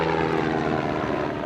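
Military drone aircraft in flight, a continuous loud propeller-engine drone with a steady throbbing hum and no voices.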